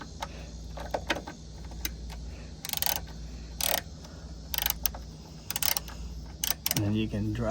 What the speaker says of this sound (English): take this screw out here so you can remove your fuel filter